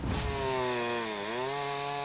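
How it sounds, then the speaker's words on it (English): A chainsaw cuts through storm debris after the 1998 derecho in West Michigan, its loud steady buzzing whine close by, dipping briefly in pitch as it bites into the wood, with no voices. "The buzz of chainsaws in Grand Haven, Norton Shores, Rockford, and lots of towns in between."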